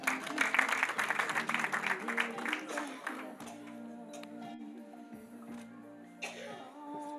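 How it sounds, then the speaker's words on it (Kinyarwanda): A burst of applause fills the first few seconds, then fades out as a sustained tonal sound carries on alone. "niba gukomera amashyi byibura"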